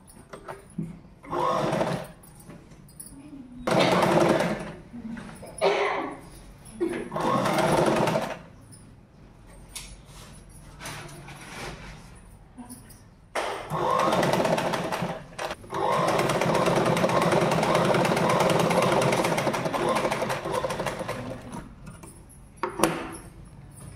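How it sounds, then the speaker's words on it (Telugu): A sewing machine top-stitching folded jacket fabric, running in short bursts of rapid mechanical whirring broken by pauses, then a longer continuous run, heard close up with no talking. "మొత్తానికి నార్మల్గా ఇలా ఫోల్డ్ చేసి కుట్టేసుకోవాలి"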